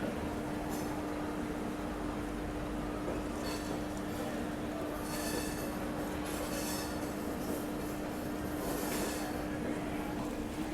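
Tirunelveli Bilaspur Superfast Express pulling out of Nagpur, a steady rumble of rolling railcars with a constant tonal hum and brief brighter squeals and rattles of the wheels, heard close from on board, no talk.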